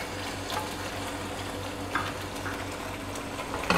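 Blended kofta curry masala paste sizzles and fries steadily in a hot pan, a continuous close crackle with a few stirring bumps.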